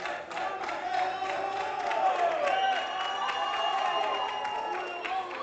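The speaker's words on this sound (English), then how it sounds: "And you can hear Puerto Rican crowd." A Puerto Rican crowd at a North American powerlifting championship cheers and shouts as a lifter attempts 200 kilos, a sustained wash of raised voices and whoops with some clapping, steady throughout.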